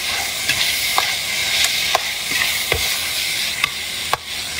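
A spatula stirs fried eggplant in a wok with green and red peppers, sizzling steadily beneath sharp scraping and clacking strokes that come every half second or so, close and clear.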